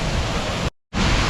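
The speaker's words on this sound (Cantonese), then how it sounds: "呢位咧其實咧好大風啊，濕晒啦已經" Strong wind and flying spray roar close by at a waterfall in Iceland, a loud broadband rush that cuts out completely for a moment and then resumes.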